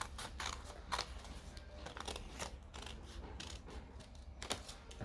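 Scissors cut through fabric for a beret in close, repeated snips and crisp blade clicks over a soft rustle of cloth, with no talking.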